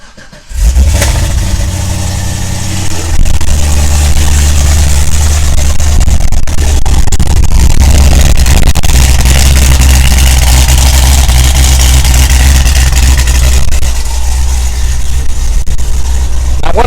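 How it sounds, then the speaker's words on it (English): A modified car fitted with nitrous and a stock exhaust cranks and fires up, revs once, then settles into a loud, steady, rumbling idle that carries on close by. "let's start this thing up"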